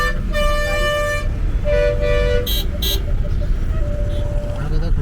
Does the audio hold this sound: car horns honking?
yes